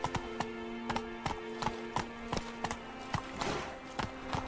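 Roach, the horse in The Witcher 3, clip-clops along at a steady walk, hooves striking a hard surface in a regular rhythm close by over a low, steady hum, with no talking.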